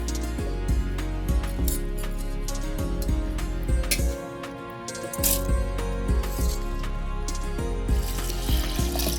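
Soaked rice is poured with its water into a mixer grinder jar, producing close, repeated rattling clinks and splashy pours that go briefly quieter midway, then resume.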